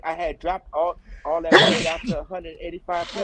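A single sharp, loud sneeze bursts out in the middle of a man's ongoing speech, with his talking both before and after it.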